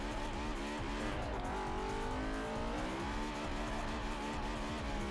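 Honda S2000 drifting in Forza Horizon 4, tuned for drifting and held in second gear, engine droning loud and continuous with wavering revs and tyre squeal throughout, no talk.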